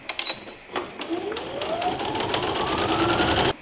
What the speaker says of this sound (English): sew all the way around, leaving one part open